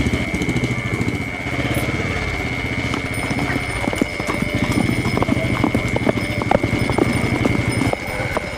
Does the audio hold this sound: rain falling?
no